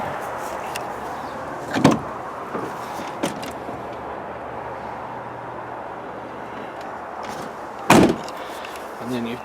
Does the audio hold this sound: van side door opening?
yes